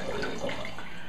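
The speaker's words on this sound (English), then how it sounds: "let's go ahead and pour a little bit of spring water in here into our clean jug" Spring water is poured from a gallon container into a clean glass jug, a short, steady splashing stream close up with no talk.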